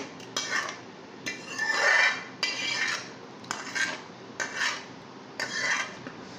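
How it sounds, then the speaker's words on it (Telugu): Amla pickle being mixed by hand with a poured tempering in a metal vessel, heard as repeated rasping, scraping stirs in several close bursts with short pauses between, no talking. "ఫ్రెండ్స్ తాలింపు వేసి ఉంచాం కదా, ఇవన్నీ కలిపేసి ఈ విధంగా దీన్ని కలుపుకోవాలన్నమాట"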